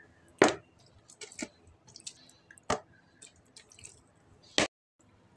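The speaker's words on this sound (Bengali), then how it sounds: "এটা গরম পানি দিয়ে ধুয়ে ফেলছি।" Broiler chicken pieces in a bowl being washed with hot water at home: quiet, sparse wet squelches and drips with a few sharper splashy hits spaced across the clip, otherwise near-silent and without speech.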